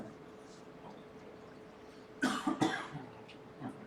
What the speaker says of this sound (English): I turned it back on and coughed into it